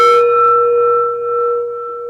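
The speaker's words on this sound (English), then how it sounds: "We ring the gong 3 times." A gong rung at a gathering gives one struck note that hangs as a steady, bright, ringing hum and slowly decays, loud and close, with no voices.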